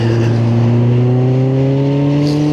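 A motor vehicle engine drones loudly and continuously while riding, with a steady low hum whose pitch climbs gradually as it accelerates, close and unbroken for the whole stretch.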